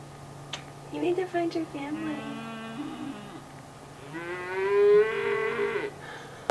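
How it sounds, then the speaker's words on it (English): A separated calf moos several times on a desert farm in Arizona, drawn-out bawling calls at moderate distance, the last one loudest, with quiet outdoor background between them. "there's a baby cow over here mooing, trying to find mama"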